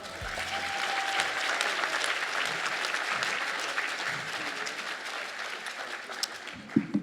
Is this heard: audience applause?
yes